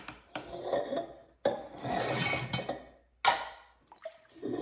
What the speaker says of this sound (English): Just give it a good stir so that everything is just stirred inside of there